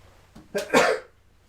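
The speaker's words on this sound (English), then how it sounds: "Excuse me. Sneezing." A single sharp sneeze bursts out after a short inhale, loud and close, followed by quiet.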